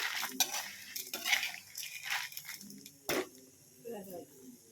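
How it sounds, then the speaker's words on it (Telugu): Four or five garlic cloves dropped into hot oil in a pan and fried over low heat, with irregular clinks and scrapes of a spoon against the pan over a faint sizzle, plus a louder clatter partway through. "ఒక నాలుగు ఐదు వెల్లుల్లి రెబ్బలు కూడా మర్చిపోకుండా వేసుకుని వాటిని కూడా వేయించేసుకోండి"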